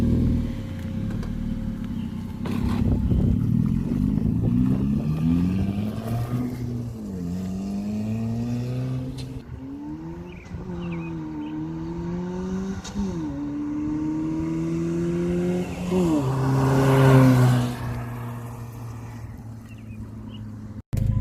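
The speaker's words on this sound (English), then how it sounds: "I'm gonna do a little drive-by video for you so you can actually see this works and pulls as good as it does." A Ford Focus converted to a manual transmission drives past, its engine revving and climbing through several gear changes, growing loudest as it passes close by near the end, with no talking.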